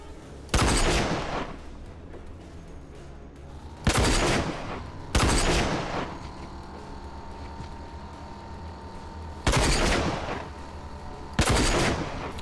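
Gunfire in the shooter game RAGE, five loud bursts of rapid shots spaced a couple of seconds apart, each cutting off sharply over a low steady background hum.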